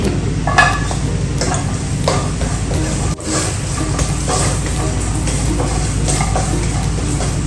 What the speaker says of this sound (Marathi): आता हे सुक खोबरं घेतलंय मी आपण याला पण सेम प्रोसेस मध्ये भाजून घेऊया